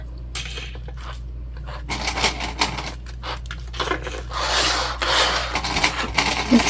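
Sewing clips being snapped onto fabric panels around the edges of a travel sling bag, giving close rasping, rubbing and small clicking sounds that build over a low steady hum.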